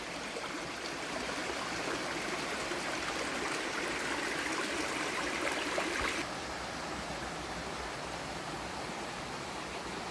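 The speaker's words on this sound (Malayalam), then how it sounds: "സ്ഥലത്തിൻ്റെ ഒരു സൈഡ് നമുക്ക് തോടാണുള്ളത്" A stream runs along one side of a rural plot of farmland in Idukki, giving a steady, broadband rush of flowing water that holds at an even level throughout, with no voices.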